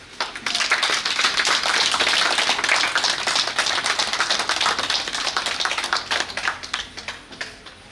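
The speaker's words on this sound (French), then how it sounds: "je vais vous demander humblement d'applaudir pour la reine" A crowd of pilgrims applauds during a visit to the royal city in Benin, with dense, lively clapping sustained for about seven seconds that thins slightly toward the end.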